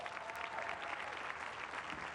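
An audience at the Earthshot Prize launch event gives a singer another round of applause, a dense, steady burst of many hands clapping at a moderate distance without a break.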